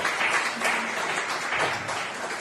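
A church congregation applauds during a Tuesday worship service, a dense, continuous clatter of many hands at moderate loudness for the whole stretch, with no voices standing out.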